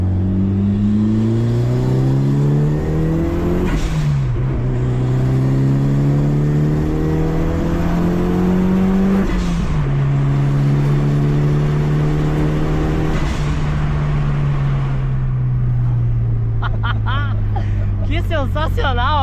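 1996 Mitsubishi Lancer Evolution IV GSR accelerating hard, engine climbing loudly through several gears with rising revs and brief dips at each shift, heard up close from inside with occupants' voices mixed in.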